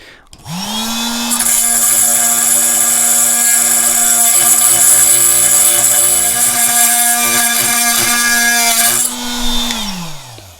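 A Fein multi-tool fitted with a Milwaukee blade cuts through screws, a loud, steady high-pitched buzzing whine that spins up, holds for about eight seconds, then winds down.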